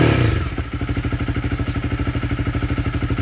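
A Honda CB300R fitted with a JE high-compression piston has its throttle snapped open. A loud burst of revs settles into a close, rapid, steady thumping engine pulse.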